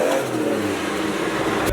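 A single-cab pickup truck accelerating hard, its engine revving up loud and close in a short, unbroken burst with no talk over it.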